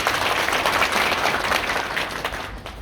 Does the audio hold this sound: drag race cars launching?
no